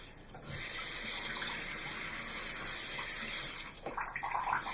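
Water runs steadily from a tap onto Kleenex tissue, a soft continuous splashing hiss that shifts and spatters near the end.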